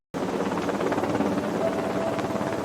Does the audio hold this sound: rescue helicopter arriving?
yes